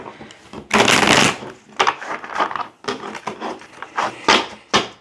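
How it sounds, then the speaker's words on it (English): Tarot cards are shuffled close up in quick riffles and bursts of flicking, papery rustling, one long shuffle followed by several shorter ones. "Let me give it another shuffle."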